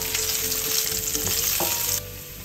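Fresh garlic fries in annatto oil in a pan over medium heat, giving a steady, close crackling sizzle that runs throughout and drops slightly in level near the end.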